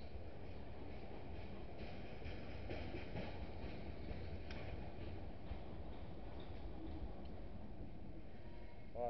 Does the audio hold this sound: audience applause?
no